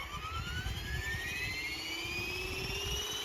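The motor of a FlishRC AS350 450-class RTF helicopter spins up with a steady, close whine that climbs in pitch over a low rumbling hum, with no talk.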